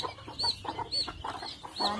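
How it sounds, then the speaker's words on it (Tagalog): Several farm chickens cluck in short, repeated bursts, close and fairly soft, with overlapping calls throughout. "Parang matakot sa akin yung mga manok"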